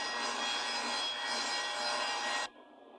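A Sears Craftsman table saw rips along a board laid flat on the table, giving a loud, steady, broadband cutting roar for about two and a half seconds that stops abruptly and leaves a faint motor hum.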